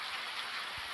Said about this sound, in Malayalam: പുറത്ത് ഭയങ്കര മഴയല്ലേ